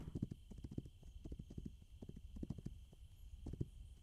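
Horse hooves clip-clop in steady, repeating beats in the Western video game This Land Is My Land, moderately close with a faint background hum and no talking.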